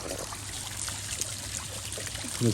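Water trickling and splashing steadily over a small backyard pond waterfall, a continuous close dribbling stream with no talk.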